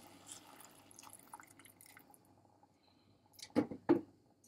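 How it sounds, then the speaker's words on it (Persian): Boiling water is poured into a pumpkin stew in a pot, with quiet kitchen clatter followed by two short, louder splashing pours near the end. "رب که رنگ باز کرد میان 4 پیمانه آب جوش اضافه میکنیم"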